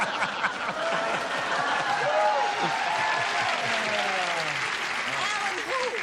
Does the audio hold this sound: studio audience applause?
yes